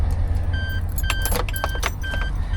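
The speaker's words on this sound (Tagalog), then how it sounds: "Ngayon ang gagawin natin is pwede na nating isaksak yung susi." Keys jangle and clink in a quick metallic series while a key is fitted into the ignition of a Suzuki DA17V minivan, with a steady low engine-like hum underneath and periodic chime tones.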